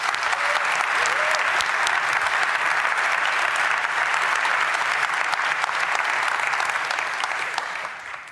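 A conference audience breaks into sustained, dense applause that stays loud and even throughout, then fades slightly at the end.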